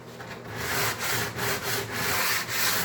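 Sandpaper rubbed by hand along the edge of a new kitchen countertop, held at an angle, gives close, raspy strokes in a steady back-and-forth rhythm of about six passes.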